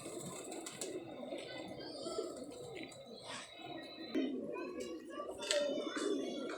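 Pigeons coo on a rooftop, their soft repeated calls mixed with other bird chirps over steady background noise and faint voices.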